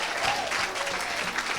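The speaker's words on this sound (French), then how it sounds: "Donne une grande acclamation à Jésus-Christ." Church congregation applauds and cheers at a prophetic worship gathering in Lille, a dense steady wash of clapping with crowd voices mixed in throughout.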